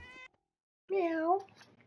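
A cat meows in the video game Fallout 4 on PS5: a short tonal call, a pause, then one longer drawn-out meow, fairly close and clear.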